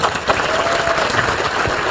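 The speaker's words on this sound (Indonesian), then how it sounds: "Tepuk tangan untuk beliau." An audience breaks into dense, steady applause, loud and close, with many hands clapping together and no gaps for the full stretch.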